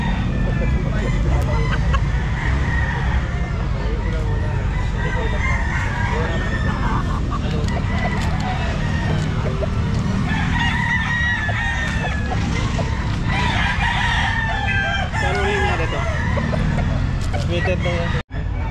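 Sweater breed gamefowl roosters, including an eight-month-old and a one-year-old, crow repeatedly and cluck loudly and close by, layered over a constant busy yard background, with voices talking.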